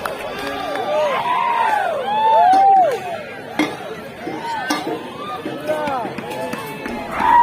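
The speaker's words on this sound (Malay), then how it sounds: "Tengok orang bersorak macam ni" Village crowd cheering at night during a Kampung Talang cannon game on Raya night: a loud, continuous mass of shouts and whoops with rising and falling voices, plus a few sharp bangs or knocks mixed in.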